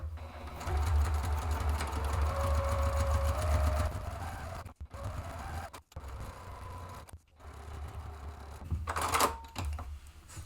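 Sewing machine running a thick decorative stitch line along a zippered bag, a steady mechanical whir for several seconds, then short stop-start bursts with brief pauses between runs.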